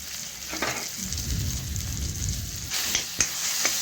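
Spices with turmeric and red chili powder frying in a pan, soft continuous sizzle with scraping stirring strokes and a few sharp clinks of the spoon against the pan near the end, close up, no voices.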